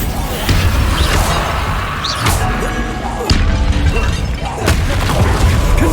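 Bombarda spell blasts go off in Hogwarts Legacy, sharp booming impacts and crashes landing in quick succession amid loud, busy game-fight noise.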